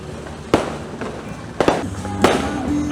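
Three sharp firecracker and firework bangs ring out at a Raya celebration, spaced about a second apart, each loud and followed by a short echoing tail, with faint voices and a steady background hum.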